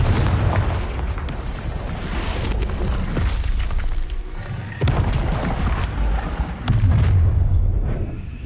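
Confringo fire spell explosions in the Hogwarts Legacy video game boom repeatedly, a series of loud, heavy blasts with rumbling low-end tails and a continuous roaring backdrop.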